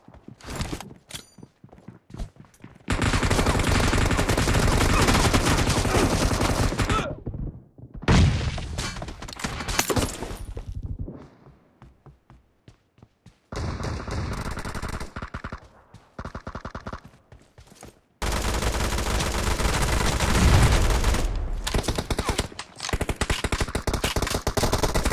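Gunfire from PUBG Mobile, with long loud bursts of automatic fire and single booming shots broken by short pauses, close and dense.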